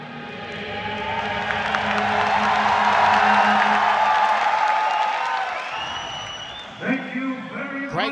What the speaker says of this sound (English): Crowd continues to file into the mighty Thuwunna Indoor Stadium in Yangon, Myanmar